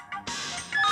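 A telephone ringtone sounds in a short burst with a brief electronic tone and a bright sustained ring, loud and close with no voices over it.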